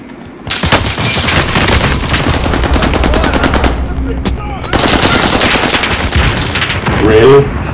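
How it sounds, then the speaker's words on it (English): Loud, rapid automatic gunfire in a first-person shooter video game, sustained bursts of close shots with a brief gap, then more firing, with voices talking underneath. "They're shooting at us right now."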